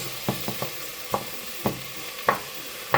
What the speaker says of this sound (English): then we can add our next step, which is our red pepper and our garlic